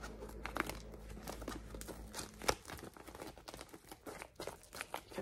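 A plastic package being cut open at close range, with crisp crinkling and tearing rustles in irregular bursts and one sharper snap midway, fairly quiet overall.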